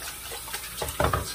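Tap water runs into a bowl and spills over the rim while rinsing soap from a shaving brush, a brief close splashing and trickling that swells toward the end.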